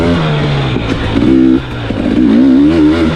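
A 2023 KTM 300 XC-W off-road motorcycle engine revs up and down, its throbbing two-stroke note rising and falling in pitch across a few seconds, loud and close with no talk.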